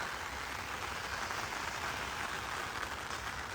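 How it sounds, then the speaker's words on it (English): Steady rain falls in the Florida Everglades, a dense, even hiss that fills the whole stretch at constant level, close by with no pauses or talk. "Even in the rain, this place is gorgeous."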